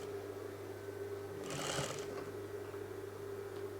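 Sewing machine stitching a loose basting seam along a folded velvet strip, a brief close whirring burst of about half a second rising over a steady low motor hum, with no talking.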